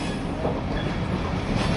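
A steady, dense rumble of rolling Canadian National freight train cars, continuous and fairly loud with a faint squeal above it.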